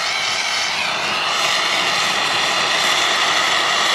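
A gas torch turned up for brazing metal roars with a steady, broad rushing hiss that swells slightly louder toward the end, close and constant with no speech.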